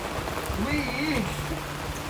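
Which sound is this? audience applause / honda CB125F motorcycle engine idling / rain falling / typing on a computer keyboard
rain falling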